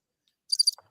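A single short burst of cricket chirps, a quick trill of a few pulses, clear against silence.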